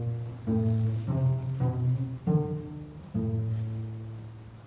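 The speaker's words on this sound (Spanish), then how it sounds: "finales de Bach, iniciales de Chillida, resulta un motivo de 6 notas" Six-note musical motif built from the names Bach and Chillida, played as sustained tonal notes in sequence, each entering with a soft attack and ringing on, with no voices.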